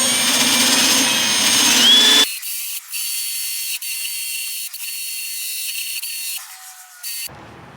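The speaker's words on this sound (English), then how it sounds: "You gotta make sure you grind it down to bare metal." A car body panel is ground down to bare metal at a dent repair spot. A loud, harsh grinding roar drops into a steady high mechanical whine with short interruptions, then stops.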